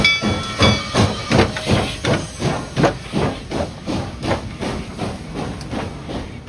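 Union Pacific Big Boy 4014 steam locomotive works with loud rhythmic chuffing exhaust beats, about two per second, under a constant steam hiss, near and steady throughout.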